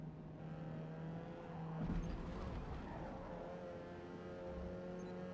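Ford Sierra Cosworth engine in the Forza Motorsport racing game: a steady engine drone at moderate volume, with a brief surge partway through as the car pushes on.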